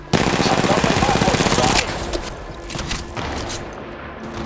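Rapid automatic gunfire rattles loudly from a weapon in the mobile battle-royale game Apex Legends Mobile. A dense burst lasts nearly two seconds, then scattered shots and game effects continue at lower level.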